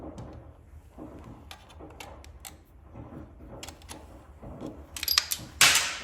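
A bolt is loosened and pulled from the intake manifold of a 2023 Harley FLHXS during a Screamin Eagle 55mm manifold install. Faint, scattered metallic clicks and taps are heard, ending in a couple of sharper, louder clinks.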